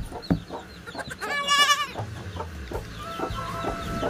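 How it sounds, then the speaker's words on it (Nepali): Farm hens cluck and cackle close by in a short run of calls, with a rooster-like squawk in the middle and quieter farmyard sounds around them. "यता चाहिँ कुखुरा अठानो बसिराखेको छ।"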